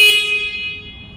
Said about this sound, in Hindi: हॉर्न को प्रेस करके चेक करते हैं कितना डीबी साउंड जाएगा।